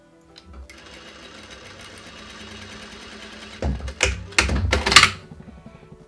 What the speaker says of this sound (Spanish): Primero voy a pasar una costura para sostenerlos los dos juntos, para que me quede más fácil